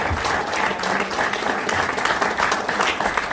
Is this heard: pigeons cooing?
no